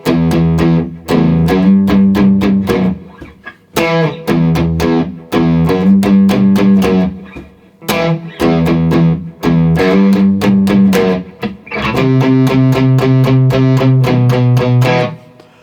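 A bass line from a song played on distorted electric guitar, with chugging repeated low notes in steady bursts and short breaks, loud and close, with no talking.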